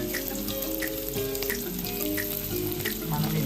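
Onions, chillies, ginger and garlic fry in hot oil for a ridge gourd curry, giving a steady, close sizzle that runs without a break. Faint watery crackles and pops are scattered through it.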